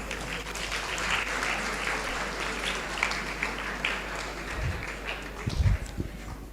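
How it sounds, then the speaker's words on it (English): Audience applause at the Madras Quiz, a live quiz event in a hall, a steady wash of clapping that holds throughout with a few louder thumps near the end. "Give yourselves a huge round of applause."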